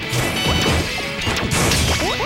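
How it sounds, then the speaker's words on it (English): In Super Smash Bros, Luigi's shield is destroyed with a loud game crash and a burst of sharp impact effects, dense and busy over the whole stretch, with no talk heard. "Luigi's shield just got destroyed."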